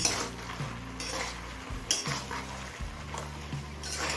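Spinach cooking in a pan is stirred once the lid comes off, with scraping and clinking of a utensil against the pan over a low simmering hiss and a background hum, in short bursts.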